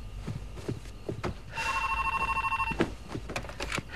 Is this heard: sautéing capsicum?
no